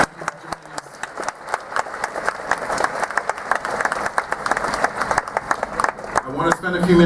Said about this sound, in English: a round of applause for all of our Maryland State officials